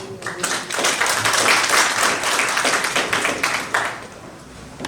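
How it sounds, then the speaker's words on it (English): Audience applause for a panelist at a Kenyan moot court panel discussion: a full, continuous round of clapping from a sizable crowd, loud and dense for several seconds, then tapering off near the end. "A round of applause for Ms. Madam."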